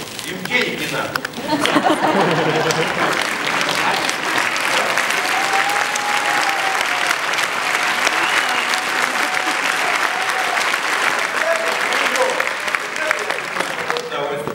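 A theatre audience at a stage play breaks into loud, sustained applause, a dense continuous roar of clapping that swells early and holds steady, with some chatter and a few chuckles mixed in.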